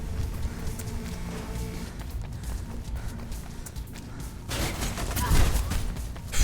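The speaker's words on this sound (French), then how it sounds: "mettez-moi des balles alors que vous êtes censé avoir des matraques" Enemies fire guns at the player in Mirror's Edge, with rapid bursts of gunfire and hurried footsteps over a busy game soundscape that grows louder and more intense toward the end.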